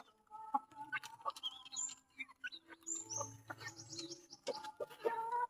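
Pet chickens clucking and chirping in a backyard, a busy scatter of short calls and peeps close by, with quiet moments between bursts.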